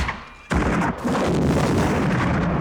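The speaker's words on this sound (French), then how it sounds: "l'autre il tire avec le flingue, c'est one shot" A gunshot in the 1987 film RoboCop lands as a sudden loud blast after a quiet moment, followed by a heavy, booming rumble that carries on to the end.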